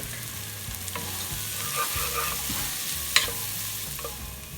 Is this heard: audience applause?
no